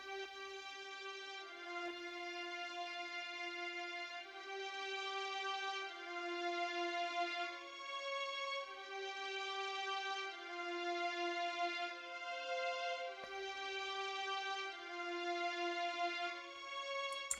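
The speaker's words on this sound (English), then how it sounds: "So the strings sound like this." A strings part from a soul sample beat plays sustained bowed chords with shifting notes, steady and moderately quiet throughout, no voices.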